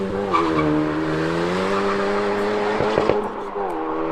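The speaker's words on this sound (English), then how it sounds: "this exhaust has made a huge difference, because I think standard, they sound okay, but this one has given it a nice low bass grunt" A Honda Civic Type R FK8 with an aftermarket exhaust hums with a steady low engine drone while cruising, heard from inside the cabin with a few faint knocks near the end.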